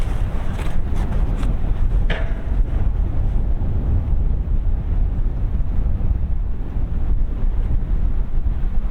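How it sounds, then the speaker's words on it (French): Strong wind buffets the microphone near the Hautpoul footbridge, a loud continuous roar with gusty rumble throughout and a few brief higher rustles near the start. "Il y a du vent de fou, ça va être vraiment super sympathique."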